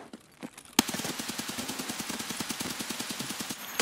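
Automatic gunfire in the video game Escape from Tarkov, a sudden loud burst after a quiet start, then a long rapid even stream of shots, close and dominant.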